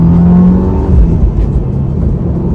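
A 2023 Subaru WRX Premium pulling hard in second gear, its engine droning loud and steady from inside the cabin as the revs climb, with no talk over it.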